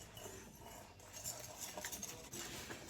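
Eggs, white sugar and self-rising flour whisked together in a bowl, a faint, quick scraping and tapping of the whisk against the bowl's sides with no one talking.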